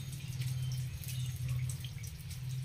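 Steady running water in a dug pit about 6 feet deep, with a constant low rushing hum and faint trickling above, continuous and fairly close, no voices.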